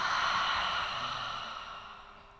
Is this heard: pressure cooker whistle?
no